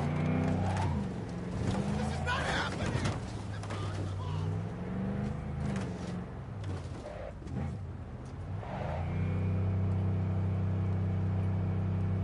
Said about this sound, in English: And this truck is a lot better than all of them, it looks like.